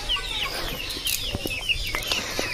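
Chickens cluck and chirp in a crowded village flock, short scattered calls near and far over a soft rustling background.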